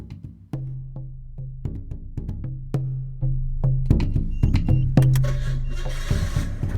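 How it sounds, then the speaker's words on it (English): A 1989 Nissan Skyline sedan's 130-horsepower 3-liter inline-six runs as a steady low drone, punctuated by rhythmic mechanical knocks and clicks that grow louder and busier midway, with no voices. "What you are hearing is the 130 brake horsepower 3-liter inline-six engine"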